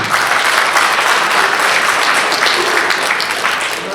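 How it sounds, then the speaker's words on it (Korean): A seated audience at a book introduction gives a loud, dense round of applause that holds steady for several seconds, with no voices over it. "큰 박수 한번 주겠습니다."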